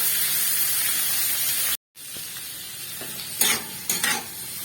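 Onion and capsicum pieces fry in a pan over high heat with a loud, hissing sizzle. The sizzle breaks off briefly, then returns a little softer, with a few clattering stirs near the end.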